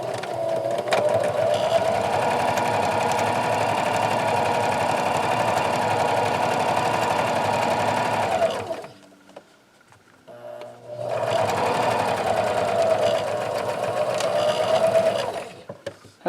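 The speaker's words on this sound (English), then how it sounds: "you can take this in here and sew at 1/2 inch seam allowance" A sewing machine stitching a zipper pouch seam hums in a loud, continuous close-up run for about eight seconds, stops briefly, then starts again for another steady stretch.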